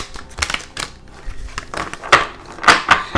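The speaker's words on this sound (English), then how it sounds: "there's various ways that you can shuffle cards" An Oracle of Shadows & Light deck of glossy oracle cards is shuffled by hand, giving close, irregular bursts of riffling clicks and slides that come in quick clusters, with no talking.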